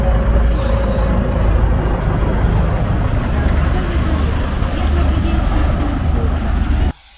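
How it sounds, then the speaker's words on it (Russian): Loud, continuous engine rumble from heavy armored vehicles running close by, droning steadily for several seconds before cutting off abruptly. "Вся бронетехника на ходу."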